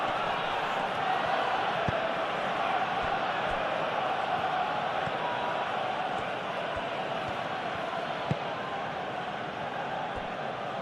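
Steady, fairly loud stadium crowd murmur and roar from a PES 21 simulated Arsenal versus Liverpool Premier League match, a broad continuous din with a few faint thumps.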